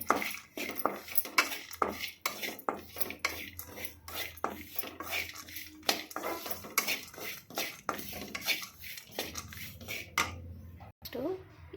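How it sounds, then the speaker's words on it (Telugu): Peanuts and almonds dry roasting together in a pan for dry-fruit laddus, a steady run of dry clicks, scrapes and rattles as the nuts are stirred against the metal, close and fairly quiet. "అన్నిటినీ ఒకటేసారి వేముతున్నా ఎందుకంటే కొంచెం కొంచెమే ఉంది కాబట్టి ఒకటేసారి వేయించుకుంటున్నాను"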